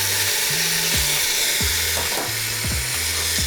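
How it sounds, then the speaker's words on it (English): Meat for a pot roast searing in an Instant Pot, a constant loud close sizzle running throughout, with faint low tonal hums and clicks underneath and no talk. "So as the meat sears"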